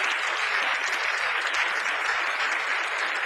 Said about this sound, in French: une bonne main d'applaudissement pour toutes les équipes